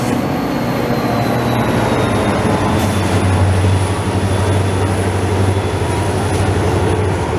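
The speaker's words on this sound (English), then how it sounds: "Sounds like some switchers" A CN freight train hauled by three switcher locomotives rumbles past over Charlevoix Street in Montreal: a steady, loud, continuous roll of wheels and engines with a faint high whine, and no talking.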